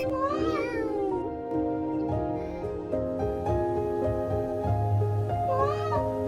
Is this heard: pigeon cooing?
no